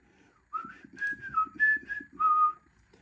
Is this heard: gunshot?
no